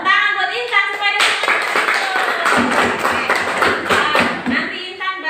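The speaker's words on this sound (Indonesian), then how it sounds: "Ayo tepuk tangan buat Intan" Classroom of children clapping for a student named Intan, a lively burst of many hands applauding for a few seconds after a teacher's voice, then settling back into speech.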